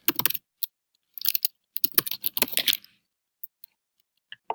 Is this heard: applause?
no